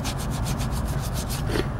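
A scrub brush worked hard against rusty, acid-treated metal, rapid rhythmic scratchy strokes repeating roughly every fraction of a second, close and loud with no talking.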